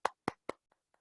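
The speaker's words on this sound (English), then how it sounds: "Can we have a huge round of applause for him, please?" Three sharp claps followed by two faint ones, sparse and close, applause for a speaker at an online Toastmasters meeting.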